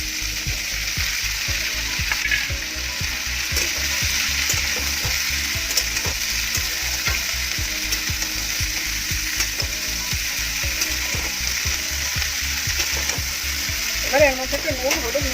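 Cauliflower frying in a pan for pav bhaji, a steady close sizzle with repeated scraping and clicking strokes of a stirring spoon running throughout.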